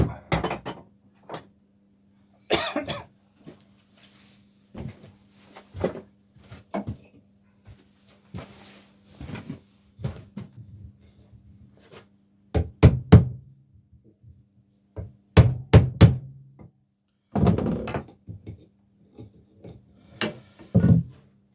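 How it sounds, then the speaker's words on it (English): A flat chisel trimming the end off a wooden mushroom turned from a fence post on a lathe, a low steady hum under scattered sharp knocks, scrapes and clicks, fairly faint and intermittent. "take that little piece off the ends there with a flat chisel"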